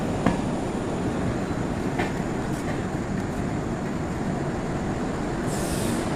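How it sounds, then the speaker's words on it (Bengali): A train rolls steadily into Cooch Behar station at night, a constant loud rumble of wheels on rails with a few faint clicks and a brief high squeal near the end. "রাত্রি এখন 11:15, কোচবিহারে ঢুকছে ট্রেন।"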